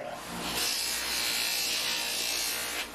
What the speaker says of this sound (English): I have a rouge, a little polishing compound on this kind of hard wheel here. Let's give the brass a scrub.